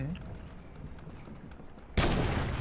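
A sudden loud gunshot blast breaks through a low, murky background, followed by a sustained noisy rumble, from gunfire in the video game Fortnite.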